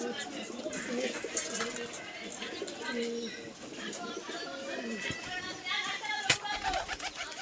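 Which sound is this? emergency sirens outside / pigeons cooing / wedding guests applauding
pigeons cooing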